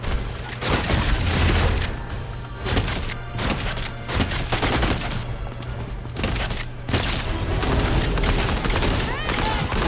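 Rapid bursts of gunfire in Fortnite, dense rattling volleys and booming impacts close and loud for about ten seconds, with brief pauses between bursts.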